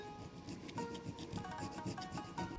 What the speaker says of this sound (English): rub the file over the top and just take the tiniest little bit